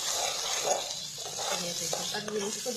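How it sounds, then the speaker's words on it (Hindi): Tomato paste fries with a steady hiss in a pan for egg curry, with soft stirring scrapes and light utensil sounds close by, and faint traces of voice in the background. "अब हम इसमें टमाटर का पेस्ट डालेंगे अपना और इसको अच्छी तरह से भून लेंगे।"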